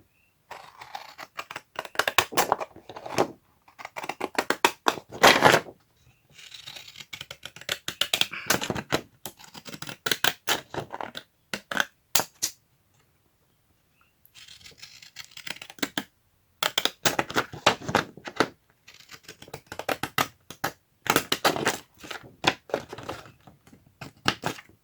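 Second-hand scissors snipping paper for a craft project, bursts of quick crisp cuts broken by short pauses, close and fairly loud with no talk.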